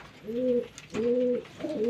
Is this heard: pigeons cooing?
yes